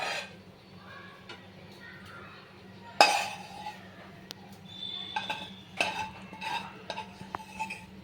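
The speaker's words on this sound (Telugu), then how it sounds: "ఆ వేయించిన కొబ్బరి వేస్తున్నాను" Ghee-fried coconut tipped into sugar syrup for poli purnam burelu and stirred, giving scattered clinks and scrapes of a spoon against the pan, one sharp clank, then lighter knocks over a low steady hum.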